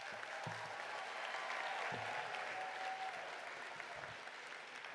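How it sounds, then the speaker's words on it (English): A graduating class at a winter commencement applauds, broad continuous clapping from a large crowd with a few low thumps and a faint tone underneath. "Give yourselves a round of applause"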